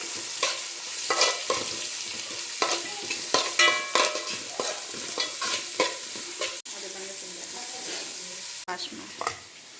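Boiled potatoes for an aloo palya stir-fry in a pan with onion, the spoon scraping and turning in irregular bursts over a soft sizzle, with a couple of sharp knocks near the end.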